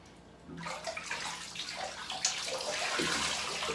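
Water running and splashing through trumpet valves during cleaning, starting abruptly after a brief quiet moment and then flowing steadily with gurgles and small splashes.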